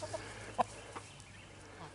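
A rooster's soft clucks, a few brief quiet calls at close range over faint background hum.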